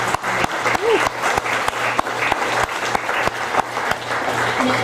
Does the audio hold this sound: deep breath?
no